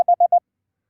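A Morse code app sounds the digit 5, five short, clean, evenly spaced beeps at one steady pitch, loud and alone, followed by silence.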